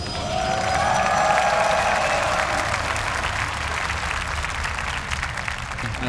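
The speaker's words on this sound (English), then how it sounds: "Just reach out and ask for applause, and there it is." A large crowd at a StarCraft 2 esports grand final at gamescom 2011 breaks into loud sustained applause with some cheering, a dense wash of clapping that swells early and holds steady before slightly easing.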